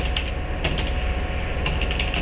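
Typing on a computer keyboard: a steady, close run of quick key clicks with brief bursts of faster strokes and no voices.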